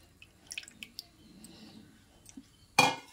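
A pan is set down with a light metallic clink and beetroot paste is dropped into it, soft wet squishes and taps followed by a sharp clatter near the end, close and quiet.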